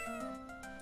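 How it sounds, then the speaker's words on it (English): Cat meowing in the video game Phoenix Wright: Ace Attorney, a short tonal game-style meow over background music, clear and close, with no voices. "Oh, what a lovely cat!"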